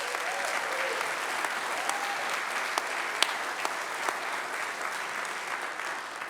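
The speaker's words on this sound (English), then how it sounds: "Please give them a round of applause." Audience applause fills a thank-you speech for a rabbi, a steady, dense wash of many hands clapping with a few sharper claps standing out, continuing at even strength without speech.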